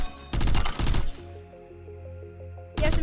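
Video game SMG fire comes in loud, rapid bursts, one long burst at the start and another at the end, with quieter electronic game tones in the pause between.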